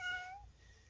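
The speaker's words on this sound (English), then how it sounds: "There's the cat." A cat meows once, a short close call in a quiet room while someone varnishes a homemade helicopter landing pad.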